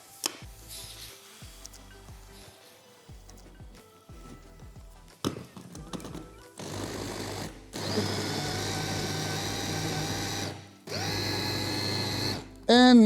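A filling of chopped nuts, breadcrumbs and oil for baklava is mixed in a bowl, producing bursts of rhythmic rattling and mechanical whirring, like an electric mixer or food processor, separated by brief pauses.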